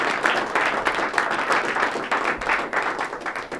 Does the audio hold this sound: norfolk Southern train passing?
no